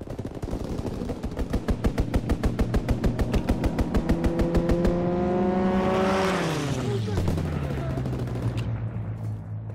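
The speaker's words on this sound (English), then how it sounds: "Strafing run inbound." Strafing run in a multiplayer war shooter video game: a rapid, loud stream of aircraft machine-gun fire for about five seconds, then a swelling engine roar that sweeps downward in pitch as the plane passes overhead and fades.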